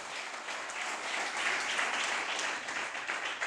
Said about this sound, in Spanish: Dele un aplauso al Señor por esa victoria.